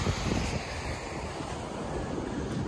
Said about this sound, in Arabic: شوف شوف البحر معلوم امواج 3 متر